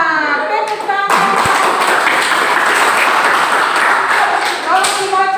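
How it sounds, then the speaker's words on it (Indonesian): A classroom of children claps together in loud, sustained applause, with young voices calling out at the start and end. "Tepuk tangan."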